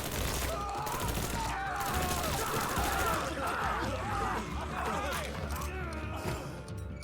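Gunfire in the video game Mafia III comes as rapid bursts and sustained volleys over a busy, loud mix, with someone shouting during the shooting.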